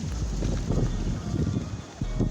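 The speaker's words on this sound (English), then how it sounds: "It's really windy." Strong wind gusts buffet the microphone outdoors beside a bicycle, a steady low roar with rising and falling surges that continue throughout.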